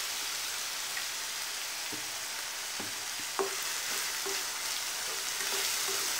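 Garlic fries in oil for a chutney, giving a steady hiss with faint crackles and a few sharp pops and light stirring clicks throughout, no voices.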